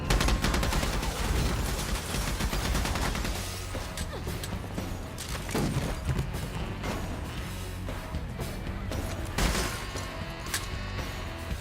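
Sustained machine gun fire from a movie action scene, dense rapid bursts of shots with mechanical clatter running continuously under a loud soundtrack.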